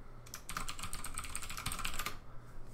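Close-up keys clatter on a computer keyboard as a name is typed into a Windows 2000 installation screen, a quick irregular burst of clicks between brief quiet gaps at the start and end.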